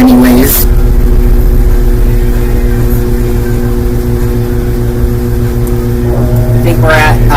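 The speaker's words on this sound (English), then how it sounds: "I think we're at about like 500 RPM or something." Samsung WA45T3200AW top-load washer on a deep wash cycle, its single-speed motor spinning the drum with a steady loud hum and harmonic whine, a person talking over it throughout.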